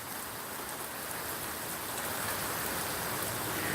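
Rain from a pop-up summer storm in southern Virginia pours steadily in a dense, even hiss of drops, with no voices over it.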